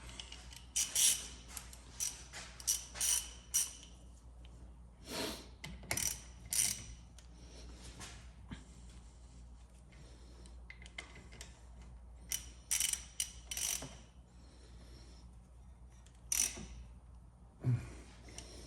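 A ratchet with socket tightens the front brake caliper bolts on a 2013 Toyota Highlander, giving repeated quick clicking ratchet bursts in uneven groups with pauses between, close up and crisp.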